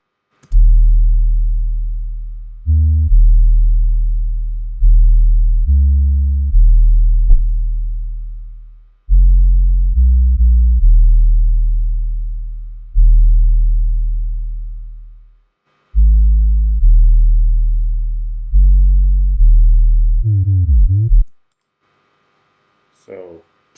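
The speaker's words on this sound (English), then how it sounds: "I'm using that as the main notes for the 808, and then just putting some notes extra and above and some slides." Deep, sustained 808 bass notes in a sample beat, a slow sequence of booming tones with pitch slides between some notes, several notes swelling and decaying, ending in a quick gliding flourish.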